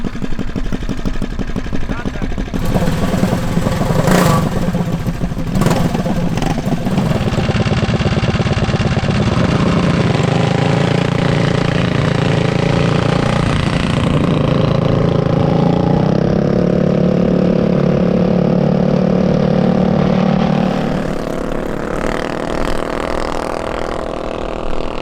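A land speed mini bike engine cranks and starts, then runs loud and close, idling with a steady buzz and climbing in pitch as it revs, with a voice speaking over it partway through.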